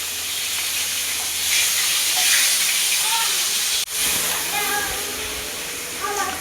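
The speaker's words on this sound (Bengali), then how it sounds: "এখানে তো সেই একদম পটল ভাজা হচ্ছে এখানে" Pointed gourd slices fry in hot oil in a home kitchen, giving a steady loud sizzling hiss throughout, with a brief knock partway through.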